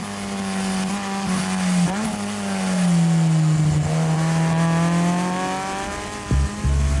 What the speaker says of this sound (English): I'm driving a 2014 Subaru BRZ. We have a Jackson Racing supercharger on here